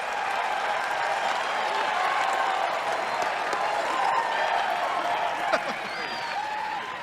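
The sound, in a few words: crowd applauding at a 1992 political convention speech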